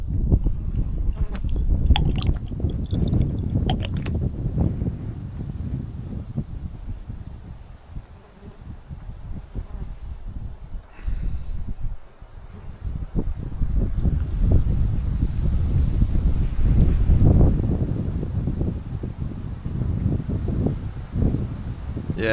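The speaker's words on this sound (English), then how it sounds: "Yes, bring on that wind" Steady wind buffets the microphone at a cool, exposed spot on a farm, a continuous loud rumbling roar with gusty swells and brief lulls, no voices.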